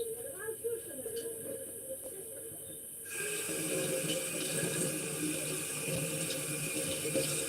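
Tap water runs into a sink as vegetables are washed, a steady close splashing rush that grows louder and fuller partway through, with some breathing audible over it.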